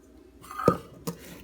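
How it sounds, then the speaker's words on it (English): A whisk knocks twice against a mixing bowl while stirring flour and salt for pie crust: two short, bright clinks about half a second apart over a quiet kitchen background. "just gonna mix that together with a whisk"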